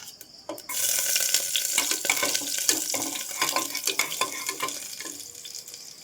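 Cumin seeds and crushed garlic hit hot oil with a sudden loud sizzle, crackling steadily and close up with a few stirring clatters after a brief quiet start.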